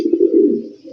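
A male racer pigeon gives a single sustained, loud, close coo that holds steady for about a second, with no other sounds around it.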